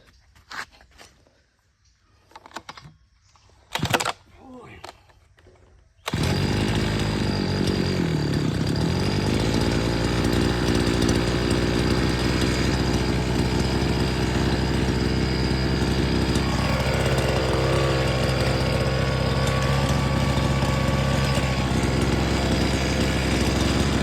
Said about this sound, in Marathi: चला, सगळ्यात पहिले आपली ग्रास कटर स्टार्ट करायची.